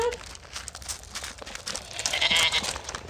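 Goats kept in pastures on a farm bleat in a brief, busy burst, with a louder wavering call near the end over a steady outdoor background.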